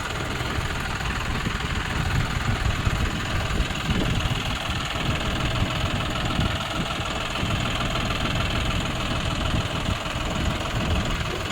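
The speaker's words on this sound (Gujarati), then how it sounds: "5105 છે, જોન ડીયરનું 4 વ્હીલ ડ્રાઈવ લીધેલું છે." John Deere 5105 four-wheel-drive tractor engine runs steadily at a near, loud idle with a rough, knocking diesel rumble and constant vibration, with no one talking.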